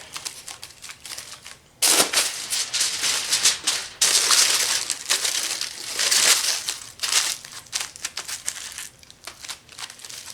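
Aluminium foil crinkled in several layers around a Melling M155 oil pump for a Chevy 5.7 L V8, a close, crisp crackling that comes in bursts of varying loudness with brief pauses between handfuls.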